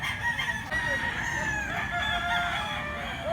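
A fighting gamecock, a ten-month-old bird offered for sale in Cebu, crows loudly and steadily across the whole stretch, its long harmonic call ringing close against a busy background.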